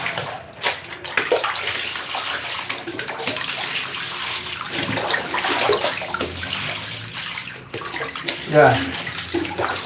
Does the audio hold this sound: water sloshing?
yes